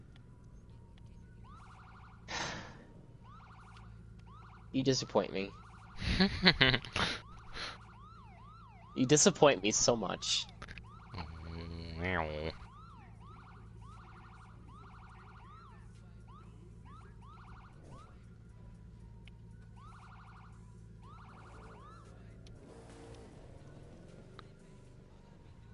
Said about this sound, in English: Is that you that has the freaking police siren horn on it?